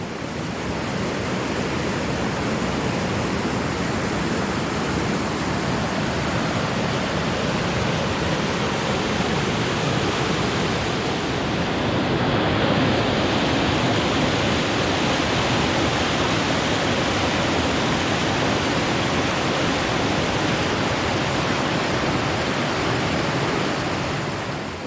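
Roaring floodwater from a rising, debris-laden river, a loud, steady broadband rush that holds constant throughout without pause, close and continuous with no voices over it.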